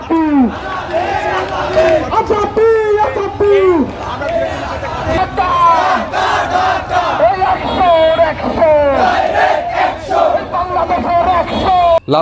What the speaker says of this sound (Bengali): স্লোগান দিয়ে বিক্ষোভকারীরা বলছেন